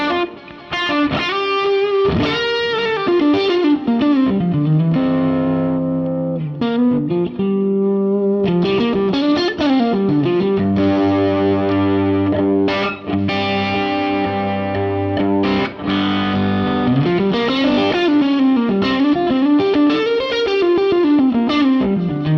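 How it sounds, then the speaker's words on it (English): Electric guitar played through a Fender Super 6G4 amp model with a Zen Drive pedal, giving a thick, saturated overdrive; a continuous melodic passage of sustained notes and bends, loud and alone. "Just really thick, soupy kind of drive, but you can still hear the strings coming through."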